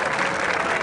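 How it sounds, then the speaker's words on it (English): Audience applause at a school spring band celebration, a dense steady burst of clapping from a crowd, fairly loud and brief. "Can we have one more round of applause for all the 7th graders?"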